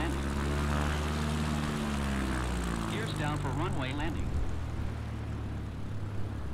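An XCub light propeller aircraft taxis on the ground, a loud steady engine drone with shifting tones close by, and a voice is heard partway through.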